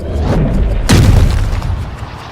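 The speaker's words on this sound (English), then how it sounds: "that is one of the hardest drives I have ever seen" Golf driver striking a ball off the tee, a single sharp crack that rings out loud over a steady rumble of outdoor background noise and fades gradually.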